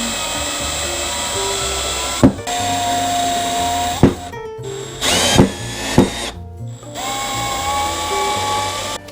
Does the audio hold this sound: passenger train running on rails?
no